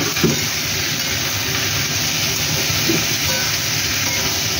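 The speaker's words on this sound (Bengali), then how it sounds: "এবার এটা আমি ভেজে দেবো" Salted paneer cubes frying in a pan for a festive Bengali navaratna paneer, giving a steady, loud, broadband hiss and sizzle that holds evenly throughout with no talking.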